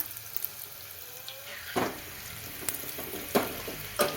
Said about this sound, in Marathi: आता आपले मस्त कांदे हे गोल्डन ब्राऊन होऊ द्यायचे